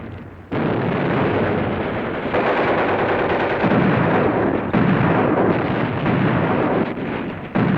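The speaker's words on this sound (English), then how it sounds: "The veteran German troops bar the way with a crossfire of mortar and machine gun fire." Heavy battle fire from mortars and machine guns on Mount Belvedere in 1945, German crossfire against the U.S. 442nd Regimental Team, loud sustained rattling bursts and blasts filling the whole stretch without a pause.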